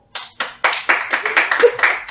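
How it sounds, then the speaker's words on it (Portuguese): A live stand-up comedy audience clapping in time, starting with a few sharp separate claps about a quarter second apart that quickly thicken into loud, close rhythmic clapping from the crowd, with a voice briefly underneath. "Põe palmas."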